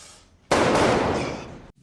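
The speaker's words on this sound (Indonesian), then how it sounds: "Tak lama terdengar suara tembakan" A single loud, sharp blast that bursts suddenly and decays over about a second, like a nearby gunshot.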